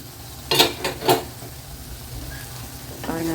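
Brinjal sautéing in a pan for chutney, with a few short stirring scrapes early on, then a soft, steady sizzle. A voice begins talking near the end.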